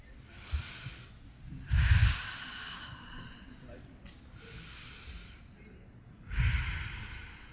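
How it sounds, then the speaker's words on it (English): A convention audience takes slow, deep breaths together, and three drawn-out sighing exhales swell and fade in a large hall, with faint murmurs between them. "literally take a few deep breaths"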